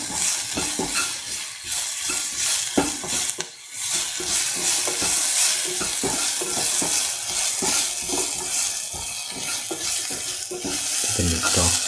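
Spinach and scrambled egg are sautéed and stirred in a hot pan, a loud steady sizzle broken by frequent scraping and clattering strokes of a utensil, with no talking.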